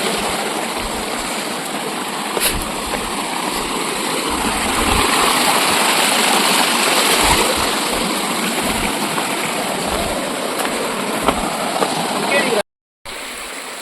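Water pouring down at Raikal waterfalls on a hillside climb, a continuous loud rushing wash that stays even throughout, close by and dominating the scene.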